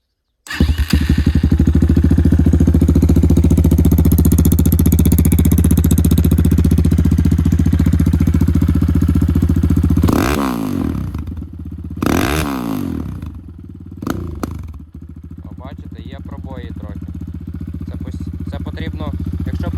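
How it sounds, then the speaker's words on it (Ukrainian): Kayo T2 Chinese enduro motorcycle with about 8,000 km on it, its engine running loud and close at a steady idle, then blipped through several sharp revs before settling, with a voice speaking faintly near the end. "Ну що, давайте його заведемо. Трохи погазуємо."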